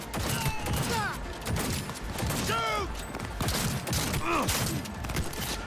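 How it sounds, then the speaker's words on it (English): Gunfire in a Cyberpunk video game firefight, with bursts of rapid shots and clattering impacts mixed with whooshing and descending whistling tones, loud and continuous, with voices shouting underneath. "I am shooting. Problem is, they're also shooting."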